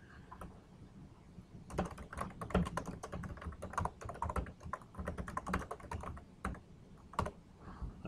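Someone types a short assignment title on a computer keyboard, a close run of quick, irregular key clicks that starts after a brief pause and continues in bursts to the end.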